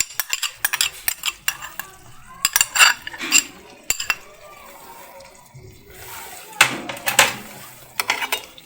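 A spoon stirs chilli chicken sauce with ketchup in a pan, giving repeated clinks and scrapes against the metal in short bursts, with a light sizzle underneath. No one speaks.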